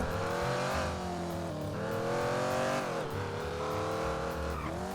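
A car driven in the video game GTA roars steadily and loudly, its engine rising and falling in pitch with squealing tires, continuous throughout without speech.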